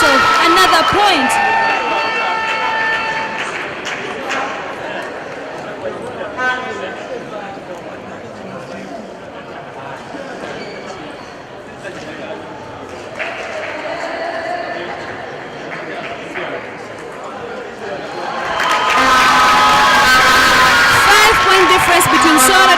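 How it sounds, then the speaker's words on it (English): Audience applause in a table tennis arena at the 2024 East Africa Regional Championship, a broad wash of clapping that swells loudest at the start and again near the end, with a commentator talking over much of it. "As you can hear, rounds of applause are occurring in the arena."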